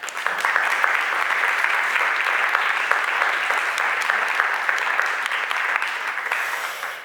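Audience applause for a string quartet at a guided classical concert: dense, steady clapping that fills the whole stretch at close range and fades at the end.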